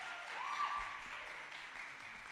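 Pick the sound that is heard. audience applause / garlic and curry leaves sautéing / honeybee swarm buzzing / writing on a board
audience applause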